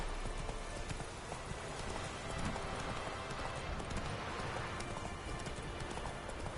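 The horse Roach from The Witcher 3: Wild Hunt pounds along in a steady run of hoofbeats, continuous clip-clop under a thick wash of ambient noise.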